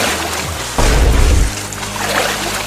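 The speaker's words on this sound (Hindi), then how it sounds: "अब मैं पानी के अंदर तैरता हूँ।" Someone swimming in floodwater kicks up a short, heavy burst of splashing, a deep watery churn lasting under a second before the surface settles into a low background wash.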